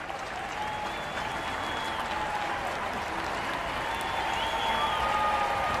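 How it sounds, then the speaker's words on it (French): Steady, dense applause from a crowd in a television advertisement asking for donations to help healthcare workers during the virus outbreak, holding at a constant moderate level for several seconds with no talking. "Imaginez que chaque applaudissement soit un don."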